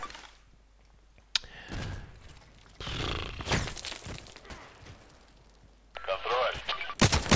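Gunfire in the Contract Wars video game comes as scattered loud bursts and sharp cracks, with a denser volley near the end, mixed with someone talking.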